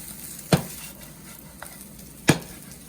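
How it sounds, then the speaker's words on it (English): Singapore curry noodles with scallion and onion are mixed in a pan under a soft sizzle, with two distinct stirring clanks about two seconds apart and no voices. "mix together and mix well"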